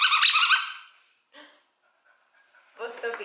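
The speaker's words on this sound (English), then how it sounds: "It's also a squeaker." A squeaky plush taco dog toy gives a loud, shrill squeak up front, followed by a short fainter squeak and a brief louder burst of squeaking near the end, with quiet gaps between.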